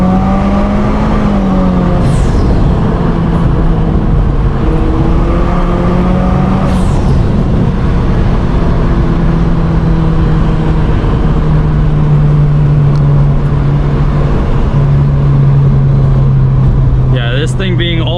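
A 2017 Subaru WRX Premium with CVT in manual sport mode drives steadily, its engine a loud continuous drone with slowly shifting pitch and wind noise throughout, speech faintly under it.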